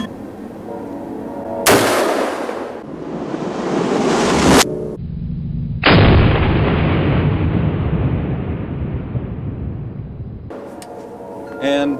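An AR-15 pistol fires single loud shots, three sharp reports spaced several seconds apart, each followed by a long echoing decay outdoors.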